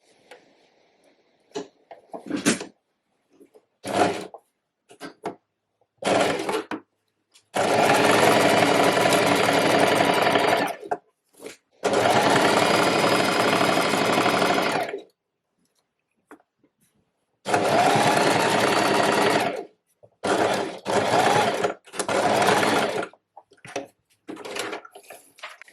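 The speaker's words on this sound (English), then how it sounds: "now I'm just going to sew as close as I can to this fold here, just with a straight stitch" A sewing machine runs a straight stitch along a trouser hem in bursts of steady whirring, with long runs of three to four seconds and shorter spurts between quiet pauses. Close and clear, with no talk.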